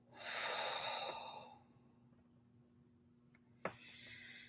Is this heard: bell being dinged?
no